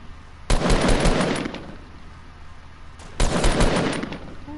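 Fortnite gunfire rips out in two loud, close bursts of rapid shots separated by a short pause, each burst lasting about a second over a low, steady game backdrop.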